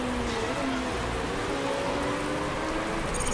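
Rain falling on a race track in Motorsport Manager, a steady patter of droplets with a faint tonal hum sliding underneath, continuous and moderately loud.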